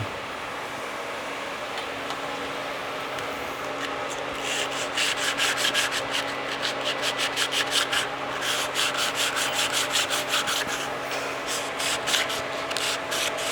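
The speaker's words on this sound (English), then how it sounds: "Keep sanding." Hand sanding, a steady scratchy rubbing that turns into quick rhythmic back-and-forth strokes, close by over a low hum.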